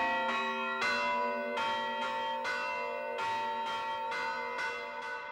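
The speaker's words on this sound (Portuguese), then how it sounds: "Para a noite de Natal, nós temos um toque especial, que é tocado nesses sinos de 1814" Church bells cast in 1814 and 1817 ring a special Christmas Eve toll in a slow, deliberate pattern, each strike leaving a long shimmering decay that overlaps the next, heard clearly with no voices.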